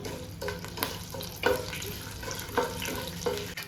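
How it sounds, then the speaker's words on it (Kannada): Whole spices — cloves, black pepper and garam masala — frying in a pan for chicken pulao, a soft continuous sizzle broken by a few stirring scrapes and clinks, moderately close with no talking. "ಈಗ ಗರಂ ಮಸಾಲೆ ಎಲ್ಲ 2 ನಿಮಿಷ ಫ್ರೈ ಆಯಿತು."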